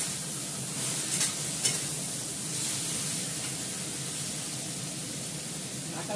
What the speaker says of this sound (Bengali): ঢাকা দিয়ে দিই, এটা হতে থাক, আস্তে আস্তে ফ্রাই হয়ে যাবে